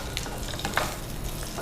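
Green chillies fry in a tempering, giving a continuous sizzle with light stirring clicks and scrapes, steady and fairly close, with no talking.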